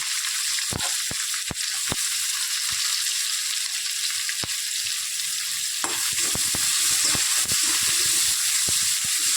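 Sliced onion frying in a pan gives a loud, continuous sizzle up close, with sharp clicks and stirring scrapes that thicken in the second half.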